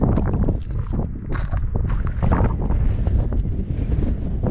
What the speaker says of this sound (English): It's going to be windy.